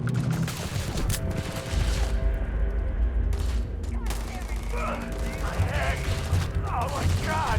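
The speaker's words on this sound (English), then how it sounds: "I'm just gonna have to shoot this guy." Gunfire in Starfield as a character shoots an enemy: a dense burst of rapid shots rattles over a constant game soundscape, with a voice talking partway through.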